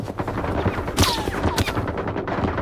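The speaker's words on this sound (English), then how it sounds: "They're shooting at me through the wall, by the way," Gunfire in STALKER 2 coming through several walls, a steady rattle of automatic shots with a few sharper, louder cracks mixed in, muffled and somewhat distant, with no one speaking.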